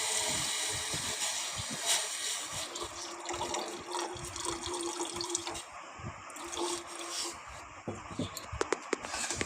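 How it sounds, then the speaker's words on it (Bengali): Water is poured into roasted semolina in a hot pan, making a close, bubbling splash and hiss that rises and settles, with a few clinks near the end. "সুজিটা আমার লাল লাল হয়ে গেছে, এখন একটু পরিমাণ মতো জল দিয়ে দিই।"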